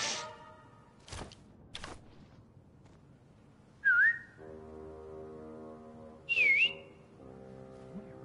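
A person whistling outdoors, two short rising-and-falling whistles a few seconds apart, each followed by a held tone, between quiet thumps and faint background noise.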